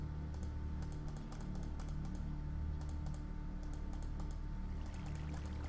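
Computer keyboard keys or a mouse click in quick clustered bursts during a video game, the sharp clicks sitting over a steady low background hum.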